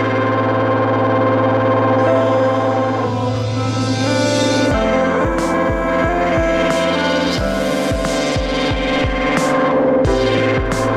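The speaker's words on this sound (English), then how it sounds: "the thing you hear in the background is on the rhythm. It's a cymbal played backwards." A reversed cymbal swells and cuts off sharply, riding on the rhythm beneath layered ambient guitar and piano textures with effects processing, played live through an Octatrack sampler.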